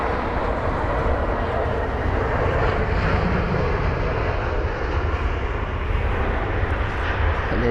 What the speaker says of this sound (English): And there's Lufthansa 320 neo.